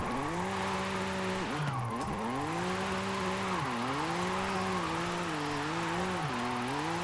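A BMW M4 engine in the racing game Forza Horizon 5 revs steadily while the car drifts sideways, its pitch dipping and climbing with each throttle change. The whine is continuous and fairly quiet, with no talk over it.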